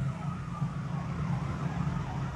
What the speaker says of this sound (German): der Krankenwagen fährt auch schon hier